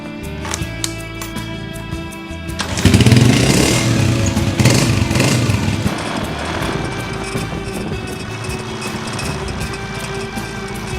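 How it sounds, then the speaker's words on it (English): A motorcycle on the streets of Yucatán, about to head out to Paseo Montejo, idles quietly, then its engine starts with a sudden loud roar and keeps running steadily up close. "let's get the engine going and let's head out to Paseo Montejo"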